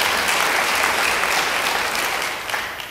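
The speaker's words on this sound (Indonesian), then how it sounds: "yang bilang mudah beri tepuk tangan buat Tuhan." A church congregation breaks into steady, dense applause for God, a loud continuous wash of many hands clapping that fades slightly toward the end.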